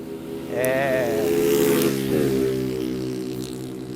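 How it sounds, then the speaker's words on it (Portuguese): A motorcycle passes close by, its engine note climbing, peaking and then sliding away over about two seconds before fading into a lingering drone. "Fizemos aí um breve intervalo para passar moto"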